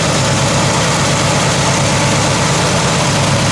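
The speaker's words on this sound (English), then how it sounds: "Engine seems to run great." A 1968 Oldsmobile Cutlass S with new plugs and wires idles loudly and close, its engine giving a steady low rumble and vibration throughout with no talk.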